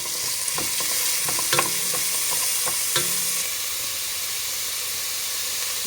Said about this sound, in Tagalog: Surog natin yung sibuyas. Ginamit ko yung sibuyas din yung puti.